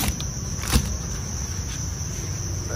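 Crickets chirp densely inside a box packed with about 50 kilograms of farmed meat crickets, a continuous high shrill trill, close and steady, with a brief knock near the start.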